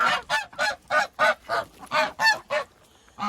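Geese or ducks honk loudly in a garden at dusk, about nine rhythmic calls in steady succession close by, followed by a brief pause and one more call.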